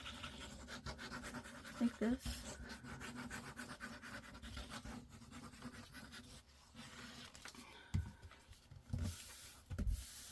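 Paper sheets being glued together and rubbed flat by hand for a junk journal tag, a dry, steady rubbing and scraping under a brief spoken remark, with a few sharper taps near the end.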